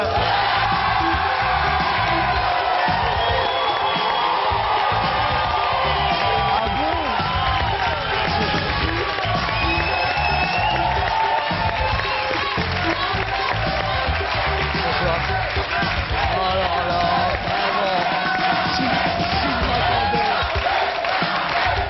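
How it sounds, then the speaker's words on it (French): A studio audience welcomes comedian Jamel Debbouze onto a French television set with loud, sustained applause, whistles and cheering, a dense crowd roar that holds steadily for the whole stretch. "je comprends un petit peu ces applaudissements et cet accueil"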